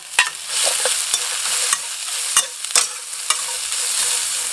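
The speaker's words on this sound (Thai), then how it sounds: "น้ำมันร้อนแล้วก็เครื่องที่โขกไว้ จี่จาบมาดูเลยนะครับ" Pounded Thai spice paste fries in hot oil for a snakehead fish stir-fry, with a steady loud sizzle and several sharp clinks of a utensil stirring against the pan, no voices.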